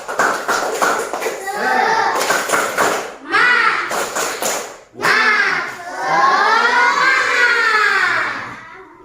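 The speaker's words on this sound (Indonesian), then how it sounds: "Tepuk semangat." A class of primary school children claps a rhythmic group cheer, sharp bursts of clapping alternating with chanted voices, close and lively, with children talking between the claps.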